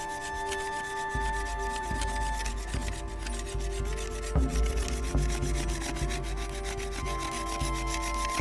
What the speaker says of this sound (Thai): โดยการขูดคุยไม้ไผ่นั้น เราจะใช้ของมีคม บังคมขึ้นให้ขนานกับไม้ไผ่ ออกแรงเบาๆในการขูด